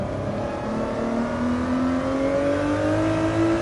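A race car engine in a racing game, loud and continuous, its pitch sweeping steadily as it works through hard braking into a right-hand corner, with no voices over it.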